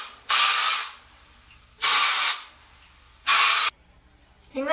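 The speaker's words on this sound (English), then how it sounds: "I'm just going to take some dry shampoo." Dry shampoo sprays onto hair in three loud, close bursts of about half a second each, separated by short pauses, and a brief voice comes in at the end.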